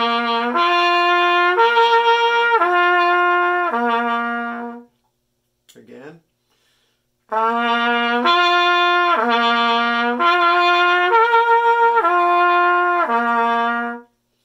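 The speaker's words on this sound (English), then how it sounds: "A lip slur means you are moving from one note to the other without using your valves." A trumpet plays lip slurs without valves, moving from low C up to G and back, then up to high C and down, in smooth connected steps. Two loud, close phrases are separated by a short breathy pause.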